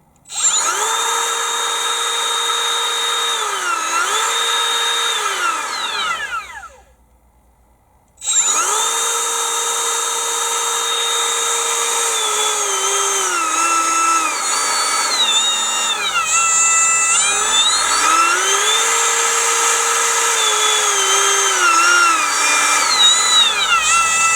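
Makita 18V cordless trim router (XTR01Z) running free at speed setting 5, a loud high-pitched motor whine that winds down to silence, restarts, then shifts pitch up and down as the speed varies.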